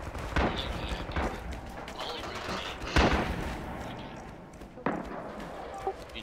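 Gunfire in the World War II shooter Red Orchestra 2 from a shooter firing out of a warehouse's third floor: several sharp, separated shots spaced a second or two apart, with a voice talking over parts of it.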